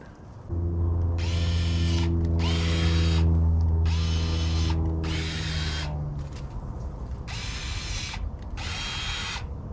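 Battery-powered electric pruning shears cut pomegranate tree branches, with a humming motor whine at the start and then a series of about six close, loud snipping bursts separated by short pauses.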